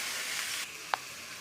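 Frying spice paste in a pan hissing steadily, the sizzle dipping a little partway through, with one short sharp clink right after.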